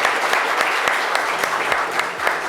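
An audience at a live music show in French applauds a singer, steady full clapping from many hands at moderate loudness with no talk over it.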